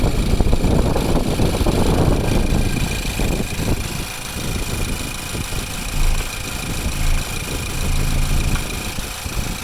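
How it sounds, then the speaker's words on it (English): A 2015 Ford Focus GDI engine idles with the oil cap removed, producing a steady mechanical hum and whirring rumble with some airy hiss. The sound is loud and continuous throughout, with no speech. "let me take the oil cap off while the engine's running"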